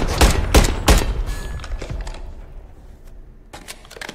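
SMG fire in a first-person shooter, a few sharp close shots at the start, then scattered fainter shots and thuds trailing off into near quiet.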